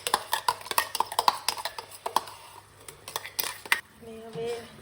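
Spinach paneer gravy with masala being stirred in a pan: a run of quick metallic clinks and scrapes of a spoon against the pan, fairly close, with brief low talking near the end.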